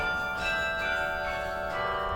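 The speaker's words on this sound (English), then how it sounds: "a carillon is a keyboard instrument, and it plays bells" Carillon bells in a university tower ring out with sustained, overlapping metallic tones, a continuous resonant wash of pitched bell sound without speech.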